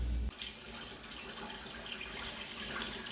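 Sugar syrup boiling in a pot for honeybee fondant, a steady close bubbling and hissing wash that runs without a break after a brief louder start.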